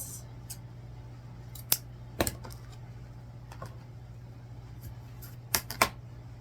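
Scissors snip through paper popsicle tails in a few short, sharp cuts, isolated clicks scattered over a steady low hum.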